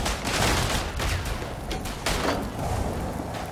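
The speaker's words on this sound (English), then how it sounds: "The enemy bar rifles are really working overtime." BAR rifles fire in the World War I shooter game Verdun, a rapid, dense rattle of gunshots with several heavy bursts. The shots sound mid-distance and run steadily throughout a busy battlefield din.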